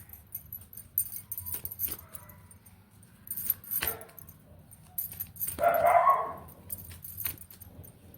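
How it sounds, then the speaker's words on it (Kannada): A dog barks in scattered bursts, some sharp and close, with a few yips and whimpers between quieter stretches. "ನಮ್ಮ ನಾಯಿ ಕೂಗ್ತದೆ"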